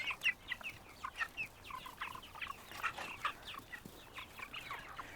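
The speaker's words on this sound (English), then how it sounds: "These chickens are 6 weeks old today." Six-week-old farm chickens clucking close by, a busy run of short chattering calls and soft squawks overlapping at an irregular rhythm, fairly quiet with no voices.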